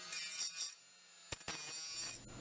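A wire brush spinning on a drill scrubs old car door brackets from a donor door of an Alfa Romeo Bertone, a steady abrasive rasping with a couple of sharp bursts, close and alone.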